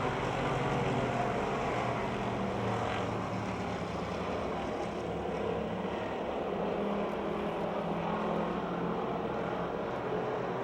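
Race cars circle the dirt track at Pennsylvania Motor Speedway near Pittsburgh, a continuous blended engine drone heard from a distance that stays steady throughout, with no voices.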